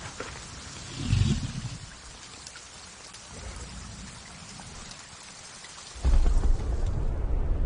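Heavy thunderstorm with burning acid rain near active volcanoes, a steady wash of rain with low thunder rumbles swelling at intervals, the last one loud and close.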